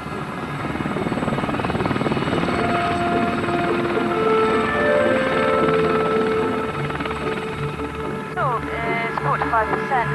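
A trainee army helicopter in flight, with a loud continuous rotor and turbine drone filling the whole stretch and a voice talking over it.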